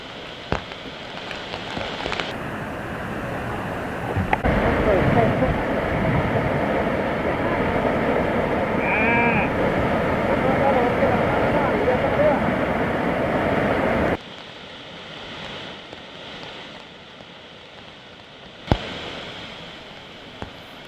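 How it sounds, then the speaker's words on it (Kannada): Chikhale waterfall in Belagavi's Western Ghats, swollen after heavy rains, gives a dense, steady rushing roar that holds for about twelve seconds, then cuts to quieter background with a few thumps. "ಇದು ನೋಡಿ ಚಿಕ್ಕಲೆ ಫಾಲ್ಸ್ ಎಷ್ಟು ಸುಂದರವಾಗಿದೆ ನೋಡಿ"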